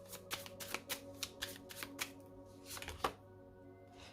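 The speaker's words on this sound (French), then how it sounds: "je vais mettre une autre carte dessus." Tarot cards flick and tap in a quick rhythmic series as one is laid on top of another, a sharper knock near the end, then quiet, close and faint with no talking.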